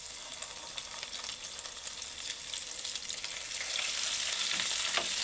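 Freshly pounded ginger-garlic paste frying with dried chillies in a pan for mutton pickle, a steady crackling sizzle that swells louder toward the end, with no voices.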